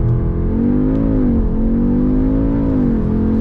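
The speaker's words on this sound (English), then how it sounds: "Let's give it a proper launch." A 2021 Audi S3 launches hard with traction control off, its engine roaring loud and close in a steady rising drone with brief dips at gear changes, no talking over it.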